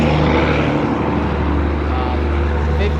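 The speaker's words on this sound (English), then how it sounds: "there's a big loud truck coming by again" A loud, steady low engine rumble of a large vehicle rolling past close by, filling the whole clip with a constant heavy drone.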